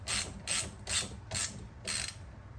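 Five evenly spaced ratcheting bursts from a 13 mm metric wrench tightening a nylon locking nut on a Vittorazi Atom 80 paramotor frame mount, close and crisp, about half a second apart, with no talk.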